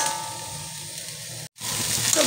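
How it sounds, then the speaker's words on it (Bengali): Capsicum and carrot frying in white oil give a continuous bright sizzle and hiss, with a brief cut of silence partway through before the frying resumes just as strongly. "আর বন্ধুরা আমি এখানে সাদা তেল দিয়ে ভেজে নিলাম"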